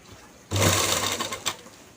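A sewing machine runs a top stitch along the side seam of a garment, kicking in abruptly after a brief quiet moment and then whirring steadily, loud and close, with no talking.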